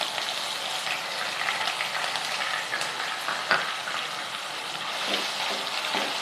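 Onion paste frying in hot oil with green chillies for a crab curry, a steady dense sizzle that holds evenly throughout with a few small pops and stirring scrapes, close and loud.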